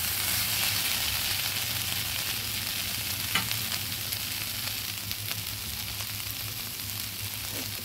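Chickpeas and soybeans fry in masala in a pan, a steady close sizzle with occasional stirring clicks and no speech.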